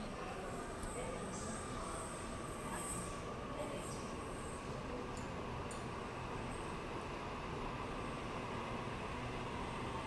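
A Sydney Trains Waratah electric train at Strathfield station gives a continuous loud rumble of wheels on rails with high squealing tones, and people talk faintly underneath.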